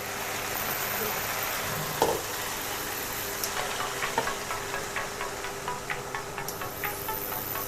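Bok choy leaves sizzling in a covered pan during a Tibetan stir-fry, a steady hiss of frying with a clunk partway through as the lid settles, followed by faint rhythmic crackles.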